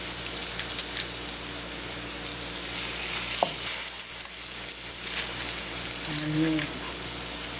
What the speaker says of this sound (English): that's the sound you want to hear when you're putting meat on a pan